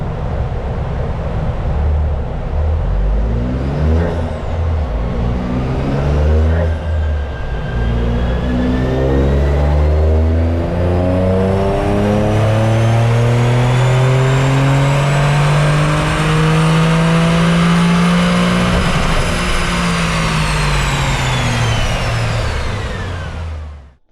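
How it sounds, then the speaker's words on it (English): A Toyota GR Yaris does a power run on a dyno, its engine revving in a long rising sweep through the gears, then climbing to a loud high-pitched peak before backing off. "I'll just do a quick power run on the dyno, see what it's making before we fit the parts."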